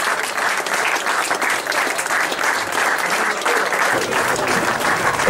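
Spectators at an amateur football match between FK Jaroměř and TJ Sokol Třebeš applaud a substituted player with steady, dense clapping that carries evenly from start to finish.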